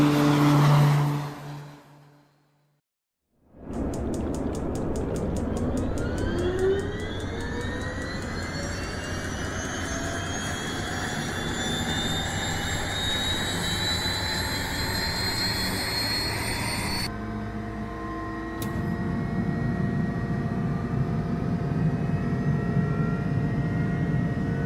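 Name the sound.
turbine Black Square Duke aircraft in Microsoft Flight Simulator video game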